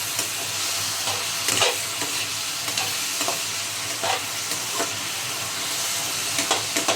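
Onions sauté in a pan for a Bengali hilsa-head curry with eggplant, a steady close sizzle broken by repeated scraping stirs of a spatula every second or so, with no voices.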